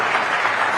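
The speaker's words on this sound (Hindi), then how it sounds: "तो जोरदार तालियों के साथ अभिनंदन करिए नितिन गडकरी का" Audience applause at a summit welcoming politician Nitin Gadkari, a brief, dense burst of clapping from a large crowd, loud and even throughout.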